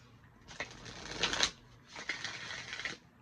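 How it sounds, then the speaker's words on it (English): Two quick riffle shuffles of a deck of sturdy tarot cards, each a dense, crisp flutter of about a second, close and fairly quiet, with no talking. "these cards shuffle so beautifully"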